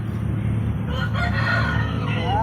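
A rooster crows over steady low background noise, a single drawn-out call rising and falling in the middle of the clip.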